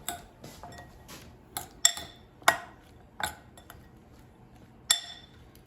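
Pasta clinking and scraping against a bowl as it is tossed with olive oil for air fryer pasta chips, a handful of sharp, close clinks spaced irregularly over quiet background.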